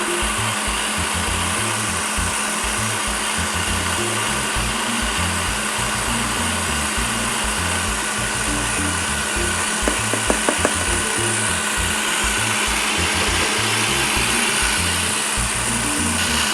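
Electric mixer whipping eggs and sugar for madeleines, a loud continuous motor whir with a pulsing low churn, steady and close throughout, with a few faint clicks partway through.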